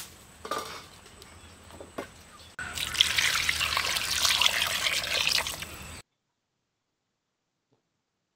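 Water pours steadily into a metal pressure cooker holding goat trotters for mutton soup for a few seconds after some light clinks, then stops abruptly into silence.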